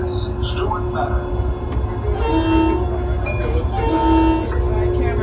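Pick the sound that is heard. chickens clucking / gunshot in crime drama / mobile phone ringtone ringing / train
train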